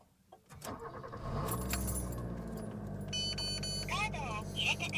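A 1997 Mitsubishi Pajero Jr engine starts after a brief jangle of keys: the starter cranks, the motor catches and settles into a steady close idle, while a chime sounds and someone talks over it.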